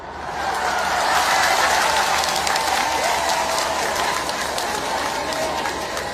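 A crowd gathered for a speech at a Tanzanian public event applauds steadily with a dense wash of clapping and ululation, building up over the first second and holding at a moderate, even level throughout.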